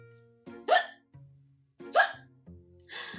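A voice imitates a little lamb hiccuping in a children's fairy tale: three sharp, squeaky hiccups evenly spaced about a second apart, close and loud, each followed by a short low breathy tail.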